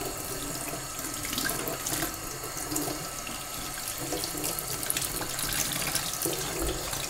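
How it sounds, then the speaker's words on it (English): Cold tap water runs steadily into a sink over CDC feathers held in a colander, rinsing out soap: a continuous, fairly loud splashing wash with no speech. "simply to run the cold water through these feathers, taking away any of the soap"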